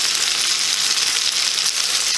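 Hoecakes sizzle and fry in a hot pan, giving a steady, close hiss with no talking.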